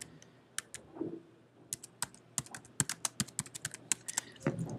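Crisp keystrokes on a computer keyboard come in quick, uneven bursts, close and clear, with short pauses between runs of typing and no talking.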